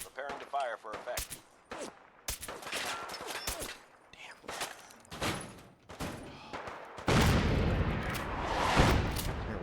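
An artillery strike in Fallout 4 sends out bursts of loud gunfire and heavy booms in irregular clusters, closing with a sustained roaring barrage, while voices speak in between.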